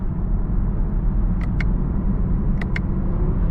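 A 2019 Chevrolet Camaro 1LT rumbles on a steady low engine drone as the driver works the paddle shifters, with a few faint sharp clicks partway through.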